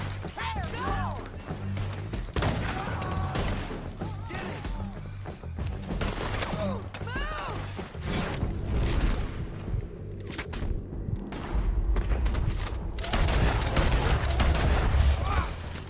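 Gunfire in the video game Red Dead Redemption 2 comes as dense volleys of shots and heavy booms over a continuous rumbling game soundtrack, loud and busy, with voices mixed in.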